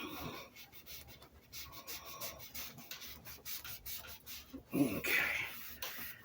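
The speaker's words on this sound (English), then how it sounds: "Rub the edges a little bit." Hand rubbing along the edges of a Les Paul electric guitar body during finishing with dye, a close, steady dry scuffing that comes in short strokes and swells near the end, no voices.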